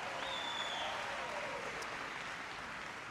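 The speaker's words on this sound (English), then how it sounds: "so give her a big round of applause." A crowd at a Los Angeles town hall with President Obama applauds for a congresswoman, steady dense clapping heard faintly and at a distance, with a thin tone briefly gliding over it.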